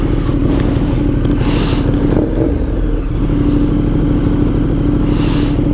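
A KTM 1290 Super Adventure motorcycle engine revs with a new throttle, a loud, close, continuous roar with rising and falling throttle blips and some mechanical clatter, no talking.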